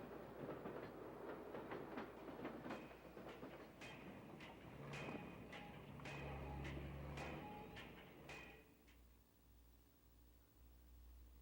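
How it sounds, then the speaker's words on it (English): A debris train on tracks laid through city streets after the 1906 San Francisco earthquake rolls steadily with a rhythmic clickety-clack of wheels over rail joints, a low rumble beneath, fading slightly toward the end. "Railroad tracks were laid down streets all over town for debris trains."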